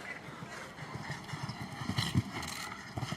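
A show jumping horse's hooves strike the ground on the course at a Nations Cup event in La Baule. The gallop comes as a close, rhythmic series of thuds under faint commentary.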